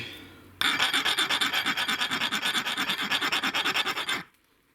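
A steel hand file rasps rhythmically across hardened differential locker gears from a SsangYong rear axle, a steady run of about thirty close, loud back-and-forth strokes that stop abruptly.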